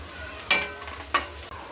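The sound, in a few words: onion greens and spices sautéing in a pan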